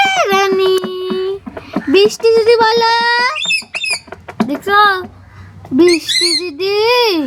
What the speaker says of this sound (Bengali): টিয়া রানী, বৃষ্টি দিদি বলো।